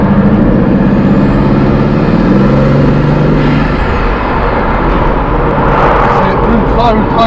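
A powerful Bugatti engine drones loudly from inside the car during the Gumball 3000 rally, with a low rumble and shifting tone as it drives along, faint voices underneath.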